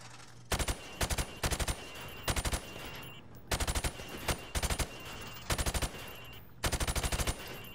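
Rapid bursts of close, loud gunfire at pop-up targets shot through wood in Call of Duty 4: Modern Warfare Remastered, coming in about nine short volleys with brief pauses between them.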